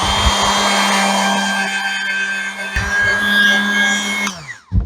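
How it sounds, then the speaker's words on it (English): A Dremel rotary tool with a mild little wheel cleans sealant off a Provap 110 OAV vaporizer. It gives a loud, steady close-up whine that holds for about four seconds, then briefly drops and winds down at the end. "I've got my Dremel right here, so I'll clean that a little bit."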